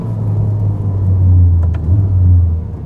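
A 1000 HP Ferrari accelerates on a public road, its engine a loud, close, steady low drone that rises slightly in pitch over a few seconds, with no talking.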